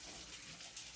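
Kitchen tap turned on, a brief steady hiss of running water at moderate distance, no voices.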